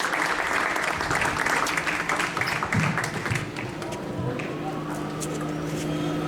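An audience at a tribute event in Madrid gives a steady burst of applause, dense continuous clapping that holds throughout and eases slightly toward the end.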